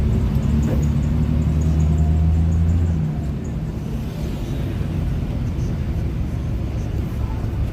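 Steady low road rumble and engine drone inside a moving car, with a heavier hum for the first three seconds before settling into a constant noise bed; no talking.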